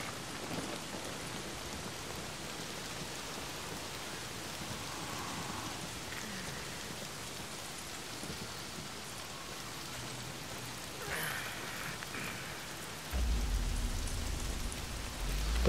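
Rain falling in the video game Days Gone, a steady hissing downpour throughout, fairly soft, with a heavier low rumble swelling near the end.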